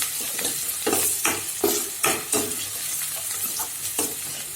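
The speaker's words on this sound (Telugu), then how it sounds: "ఒకసారి కలుపుకోవాలి పసుపు యాడ్ చేశాక." Garlic and turmeric frying in a pan are stirred, with a steady sizzle broken by rhythmic scraping strokes of the spoon about every half second, close and clear.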